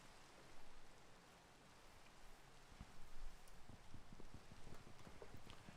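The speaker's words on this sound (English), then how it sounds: "And it's raining just right here." Steady rain patters and hisses throughout, a dense even wash of drops with no voices, in the game Minecraft.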